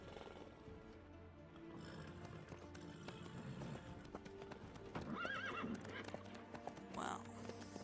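In The Witcher 3, a horse's hooves clop steadily on the ground under ambient game sound, and a whinny rises near the end.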